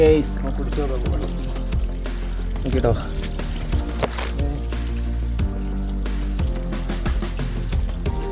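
Fresh water trickles and drips inside Muniyara cave in Kottayam district, a close, continuous pouring flow with scattered droplet splashes, and faint talk in the background.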